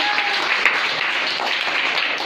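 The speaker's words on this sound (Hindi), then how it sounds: "बहुत सारी तालियां।" A crowd at a quiz competition claps and applauds steadily for the winning team, a dense wash of hand claps at fairly close range, with voices faintly mixed in.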